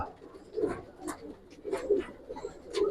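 Silver colouring Gribaz pigeons coo in a close cluster, several throaty rolling calls rising and falling in short bursts, fairly near and clear over a quiet background.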